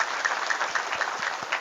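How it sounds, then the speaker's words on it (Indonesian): Sustained applause from an audience at an Islamic tabligh akbar gathering in a pesantren, a dense, steady patter of many hands clapping throughout, with no talk over it. "Tepuk tangan dulu lah"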